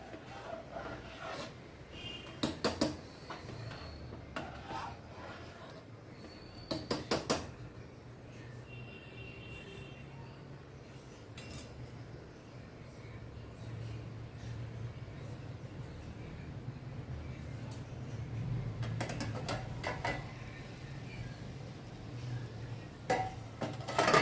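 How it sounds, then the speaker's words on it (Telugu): Steel bowls clink and clatter in a home kitchen during prawn curry cooking, in scattered sharp metallic knocks spread over a quiet background hum, with no talk. "ఇంకా ఇవి స్టీల్ గిన్నెలు తెచ్చుకున్నా కదా అందులోనే పెట్టుకుంటా"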